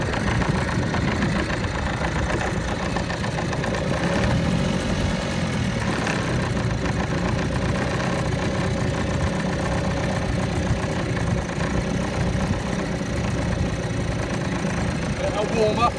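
An old junk outboard boat engine idles steadily after starting, a continuous close rumbling chug with uneven knocking, while people talk nearby.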